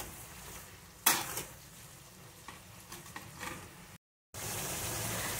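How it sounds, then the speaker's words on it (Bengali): Tomatoes with salt sauté in a pan for a Bengali aloo dum, a continuous low sizzle broken by a sharp clank and repeated scraping, stirring strokes of a spatula against the metal. "টমেটোটা বেশ করে কষতে হবে"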